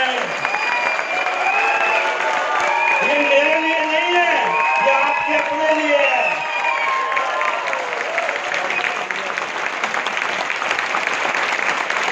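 Sustained crowd applause with some cheering at a Chandigarh MTM program, loud and continuous throughout, while someone speaks over it through the middle before the clapping carries on alone.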